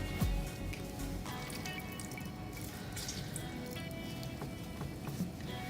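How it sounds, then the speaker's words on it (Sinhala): Half a lemon squeezed by hand for dragon fruit juice gives wet squishing and juice dripping, with a few soft clicks over a steady background hiss; nobody talks. "ඊට පස්සේ අපි lemon ටිකක් ස්ක්වීසි කරගන්න ඕනේ"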